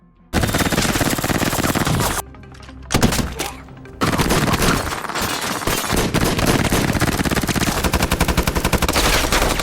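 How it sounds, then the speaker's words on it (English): Rapid automatic gunfire and single shots ring out in a movie shootout between an armed team and a lone man, loud and nearly continuous, with a brief lull before the bursts resume. "And suddenly a shootout erupts"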